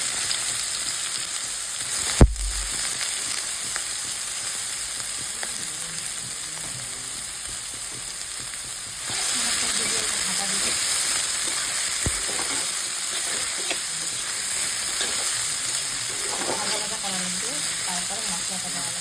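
Cauliflower stems frying in hot oil with whole cumin seeds, a steady loud sizzle throughout that swells midway, with a sharp clatter early on and occasional stirring scrapes.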